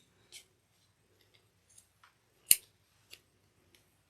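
Scissors snip through vinyl fabric while a bag is being sewn, a few short crisp cuts spaced apart with one loud close snap in the middle, faint and otherwise quiet.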